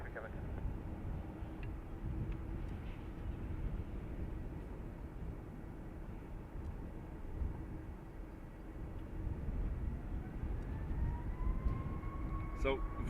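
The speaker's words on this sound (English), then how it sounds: "So Vueling, a 320 Neo for Vueling this time, coming in from Barcelona" A Vueling Airbus A320neo arriving from Barcelona and landing at Dublin Airport: a steady distant engine rumble and whine that rises toward the end, heard outdoors with light background noise.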